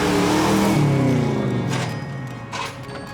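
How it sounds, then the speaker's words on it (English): The Eleanor car from Gone in 60 Seconds revving hard, a loud close engine roar that climbs in pitch, then eases off with a couple of shorter throttle blips. "we drive Eleanor just like it's supposed to be driven"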